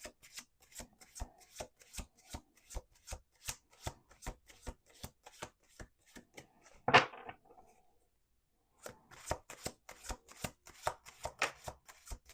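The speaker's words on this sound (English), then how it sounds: "Let's do 2 more shuffles." A deck of tarot cards shuffled in a fast, steady riffle of crisp flicks, a sharp snap near the middle, then a brief pause before the shuffling resumes. No voices.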